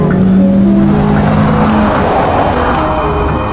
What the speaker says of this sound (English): another car appeared behind her, and its speed was getting faster